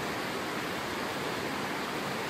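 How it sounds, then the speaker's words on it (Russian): Shallow mountain river rapids rush through the Guama gorge in Krasnodar Krai, a dense, even roar of water that holds steady and close throughout, with no voices or other sounds. "И вот этот вот монотонный шум перекатов не очень глубокой горной реки."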